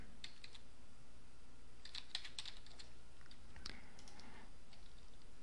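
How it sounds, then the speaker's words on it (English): Keyboard typing on a computer while entering a short email message, with quick irregular bursts of clicking keys at close range over a quiet room hiss, with pauses between runs of keystrokes. "type a brief message"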